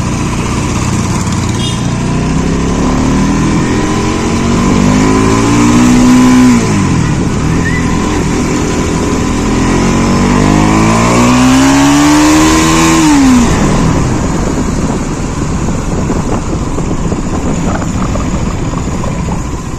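A Bajaj Pulsar NS200 motorcycle revs hard in first gear, its engine note climbing and dropping twice in loud sweeping pulls over constant wind and road roar, heard up close while riding.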